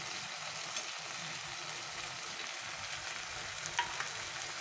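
Ground poppy seed and mustard paste hits a pan of boiled vegetables and pumpkin greens, giving a steady, soft sizzle with a few faint stirring clicks and no voices.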